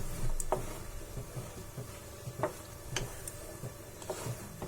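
A spoon stirs boiling shahi paneer gravy in a pan, giving soft irregular scrapes and light clinks against the metal over a continuous bubbling simmer, close and moderately quiet.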